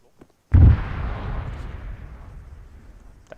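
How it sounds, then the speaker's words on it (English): A massive secondary explosion in the Arma 3 military video game, a single loud, close boom that starts sharply and then rumbles and decays over several seconds. "That's a massive secondaries that blew up there."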